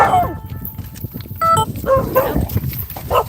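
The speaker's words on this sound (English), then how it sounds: "That's my dogs freaking out." Several dogs bark in rapid, overlapping bursts close by, excited and agitated, throughout the short stretch.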